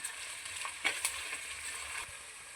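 Mint and coriander leaves are stirred in a hot pan of oil while making fish curry, giving a soft continuous sizzle with a few light scraping clicks of the spoon, close and quiet, with no voices.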